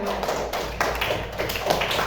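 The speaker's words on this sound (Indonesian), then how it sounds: "Bagus, jawabannya tepuk tangan" Schoolchildren in a classroom break into sustained group clapping, a busy, even rattle of many hands that stays loud for its whole short length.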